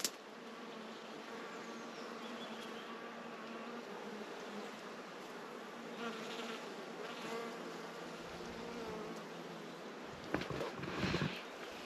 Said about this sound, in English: Bees are also working the ivy.